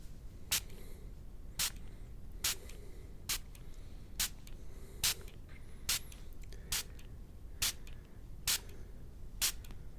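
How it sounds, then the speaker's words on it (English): A handheld spray bottle gives a dozen short, crisp spritzes at an even, unhurried rhythm, close and quiet over a soft background hiss with no talking. "I think I might just use the spray bottle a little bit, just to get a little bit damper."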